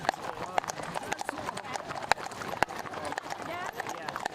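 Horse hooves clip-clop in a steady, brisk rhythm on a town street during a cowboys' ride in DC, with people talking over the hoofbeats.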